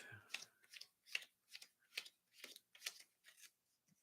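Playing cards riffled and shuffled, then dealt out onto a tabletop during a miniatures board game, a run of about nine quick papery bursts in steady rhythm, close and fairly quiet with no talk.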